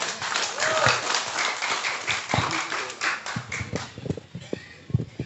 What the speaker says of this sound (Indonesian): Tepuk tangan untuk Bapak Bupati kita.